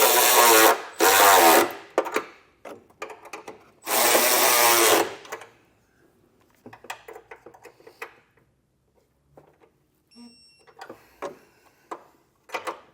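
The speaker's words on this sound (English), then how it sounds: "Then we can come back and we'll tighten and torque these two down." Running board bolts on a 2023 Jeep Grand Cherokee are tightened with loud, close bursts of a power tool, two short and one longer, followed by scattered faint clicks and handling taps.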